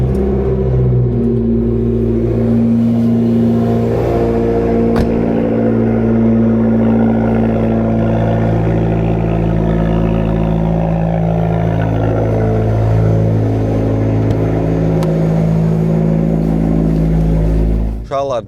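A Mazda Miata drives along a road, its engine a steady, loud drone heard from inside the car throughout, with someone talking over it.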